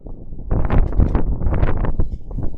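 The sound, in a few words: wind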